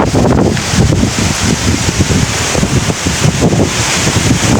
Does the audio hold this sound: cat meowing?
no